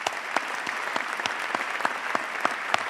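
Audience applause at a spring commencement ceremony for a school of sport, tourism and hospitality management, a steady dense patter of many hands clapping with sharper individual claps standing out, sustained throughout at moderate loudness.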